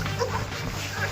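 Dogs whimpering and yipping close by in strong cold wind in Kuwait, a short strained burst against steady background noise.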